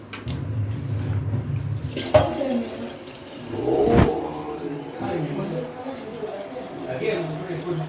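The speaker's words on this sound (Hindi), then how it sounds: "अभी थोड़ा सा पानी भरेगा" Water runs into a vessel to be heated for tea in a Himalayan hill setting, a close splashing trickle with a brief louder gush, while people talk over it.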